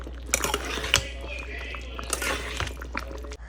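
Food with fritters added is stirred and mixed in a pot, with repeated clinks and scrapes of a utensil against metal over a low hum and faint talking.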